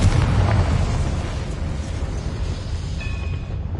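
Confringo fire spell explosion in Hogwarts Legacy: a loud, broad blast right at the start that rolls into a long rumbling decay, with a thin ringing tone late on and no talk.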